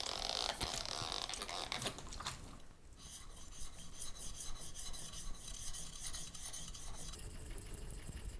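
Steel edge of a brand-new chisel being honed on a whetstone, a steady rasping scrape of repeated back-and-forth strokes, close and continuous with no talking.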